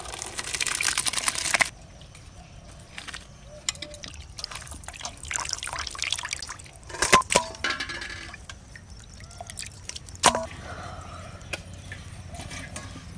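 Starch water from cooked rice pours and trickles through a basket, a brief rushing stream at first, then scattered drips and small clatters in a quiet village kitchen.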